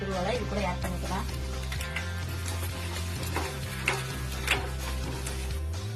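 Grated coconut being stirred as it fries in ghee for tomato payasam, with a continuous soft sizzle and clinking, scraping ladle strokes against the pan, some sharper knocks, and a person talking over it.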